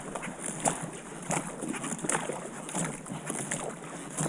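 Oar blades plop into the water in repeated rowing strokes, each a soft splash at a steady rhythm, with water noise and wind behind them.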